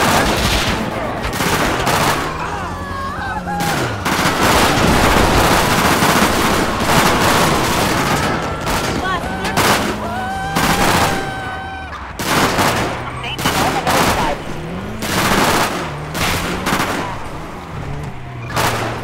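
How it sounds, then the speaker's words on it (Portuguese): Loud machine-gun fusillades in a realistic bank-heist video game, with bursts repeating in waves amid police and gang shootouts while someone talks excitedly over the gunfire. "E os caras dos families aqui não param de atirar, mano."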